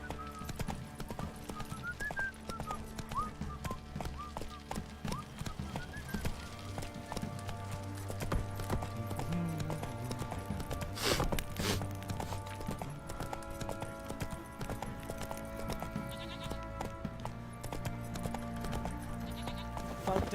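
Roach the horse trots in The Witcher 3, hooves clip-clopping in a steady, continuous rhythm at close range, with game music and ambient tones underneath and a brief thump partway through.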